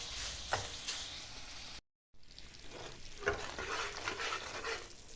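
A spoon scrapes and stirs a gram flour laddu mixture in a pan, a steady close scraping with soft sizzling underneath, broken by a brief silent gap midway.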